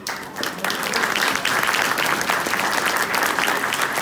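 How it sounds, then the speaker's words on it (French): An audience in Aulnay-sous-Bois applauds during the mayor's speech, a steady, dense round of clapping heard at moderate level after a brief quieter start. "on peut l'applaudir"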